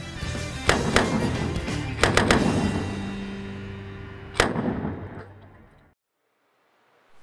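Several sharp, loud cracks from cowboy-style fast draw revolvers at a championship match ring out in quick bursts, a pair of shots near the start, a tight cluster around two seconds and another shot later, each with a fading echo tail.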